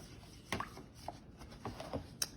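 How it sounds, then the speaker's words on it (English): Spoon stirring a Grinch slime mixture in a bowl before baking soda goes in, giving a few soft, irregular scraping and clicking strokes, close and fairly quiet with no talking. "Here we are stirring."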